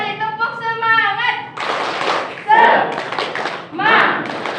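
A group clapping the tepuk semangat cheer at a training session, with a burst of steady rhythmic claps and thuds after some talking, loud and close with voices mixed in.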